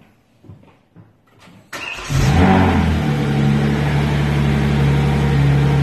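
A Hyundai Genesis BH sedan cranks and fires up: a few short starter bursts, then the engine catches with a loud surge and settles into a steady, close idle with no voices.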